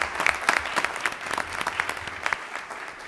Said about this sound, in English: I think we should give them a round of applause for serving our country